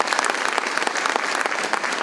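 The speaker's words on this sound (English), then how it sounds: "Again, give it up for Jerry" An audience applauds at a city State of the City address, a dense, steady wash of many hands clapping that fills the whole short stretch.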